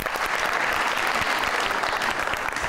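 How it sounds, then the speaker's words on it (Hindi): A studio audience on a television talent show bursts into brisk, dense clapping. The applause is loud and close and sustains evenly for under three seconds. "तालियां।"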